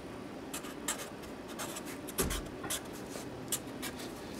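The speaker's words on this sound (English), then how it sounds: "I'm going to do a bit of a dotted line here, just to remind me not to cut along that line" A marker dabbing a dotted line onto a car body panel during a classic MGB GT restoration makes a series of short, light, close scratchy taps in an otherwise quiet workshop.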